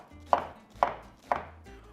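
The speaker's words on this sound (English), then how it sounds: "I love cutting onions" A knife chops through an onion on a cutting board for a bolognese sofrito, three crisp, evenly spaced close thuds followed by a softer fourth, with no talking.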